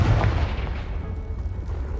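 The Confringo fire-blast spell from the Hogwarts Legacy video game explodes in a single heavy boom, loud at first and then fading into a rumbling decay.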